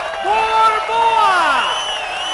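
Boxing crowd in an arena in Montana cheering and whooping for the IBF bantamweight champion Julio Cesar Borboa, a dense roar of many voices with rising shouts, loud and close, over a ringside announcer talking.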